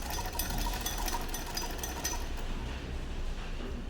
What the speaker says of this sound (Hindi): अब इस पर सिलाई करते हुए जाते हैं